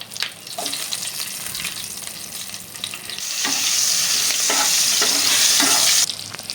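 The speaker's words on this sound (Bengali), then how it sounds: "এরপর তার মধ্যে ফোড়নে ব্যবহার করব কালো জিরে আর কটা কাঁচা লঙ্কা" Black cumin and green chillies hit hot oil left from frying hilsa fish, with a loud, close sizzle and stirring scrapes that swell into a fierce, continuous crackle partway through.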